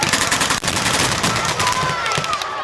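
Rapid bursts of gunfire crackle continuously at a reenactment of the Red Army storming Königsberg, loud and overlapping like battle, with shouting voices mixed in beneath the shots.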